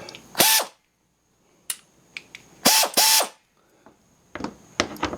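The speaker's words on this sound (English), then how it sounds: "there's a whole lot of bolts, so thank God for air tools" An air ratchet spins off 10mm cowl bolts on a 2005 Infiniti G35, firing in short, loud, close whirring bursts, some paired, with quiet gaps and smaller clicks between them.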